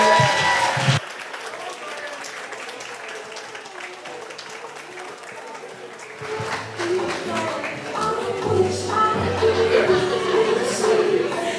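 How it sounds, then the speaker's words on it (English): Audience applause at a wedding reception as the bride's father is called up to the podium, steady clapping from a crowd with scattered chatter and laughter, swelling louder toward the end. "Give him a round of applause, ladies and gentlemen."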